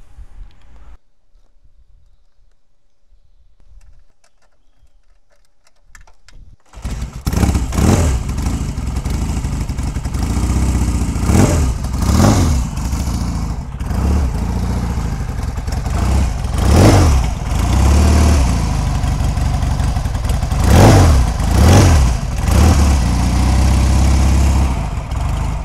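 A Royal Enfield Interceptor motorcycle fires up after a quiet stretch of shuffling, then settles into a steady close idle broken by several sharp throttle blips and revs, loud and alone.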